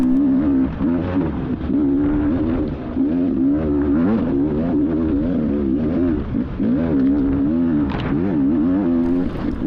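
A 2020 Beta two-stroke dirt bike engine howls steadily close by during a mountain hare scramble, its pitch wavering up and down as the throttle opens and closes through the trail.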